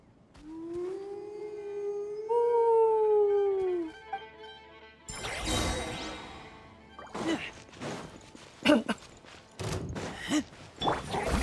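A Rift Hound creature in the video game Genshin Impact lets out a long, rising and falling howl, followed by a burst of crashing combat effects and sharp impact hits.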